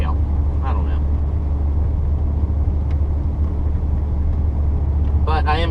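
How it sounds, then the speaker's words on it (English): A 1994 Saturn SL2 Homecoming Edition with a twin-cam four-cylinder and four-speed automatic hums in a steady low drone close by, with brief snatches of voice now and then over the engine. "1994 Saturn SL2 Homecoming Edition. Twin cam, 4-cylinder, 4-speed automatic."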